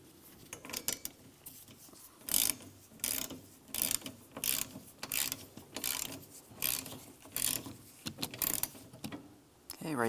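A ratchet snugs a 15mm nut while a knock sensor is replaced on a 1998-2002 Lincoln Navigator, making repeated close clicking bursts in an uneven rhythm with short pauses between strokes.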